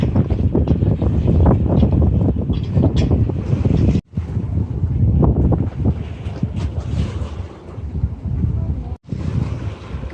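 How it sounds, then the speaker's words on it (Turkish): Strong gusty wind buffeting the microphone continuously, with a roaring low rumble and brief sudden drops. "Bayağı bugün rüzgar var."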